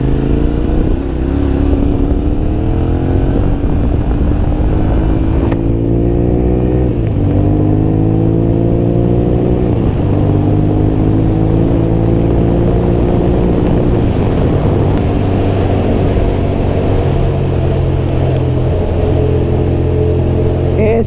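A 2024 Yamaha T700 adventure motorcycle engine drones loudly while riding, with rising pitch through gear shifts and steady cruising rumble mixed with wind, continuous and close.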